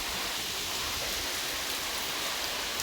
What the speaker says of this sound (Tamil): என்ன மழை